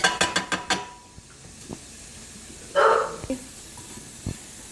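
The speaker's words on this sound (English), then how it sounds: "sorry about the dog barking." An elderly dog barks several times in quick succession near the start, then gives a couple of isolated barks later, heard close by in a kitchen over a faint sizzle of butter melting in a pan.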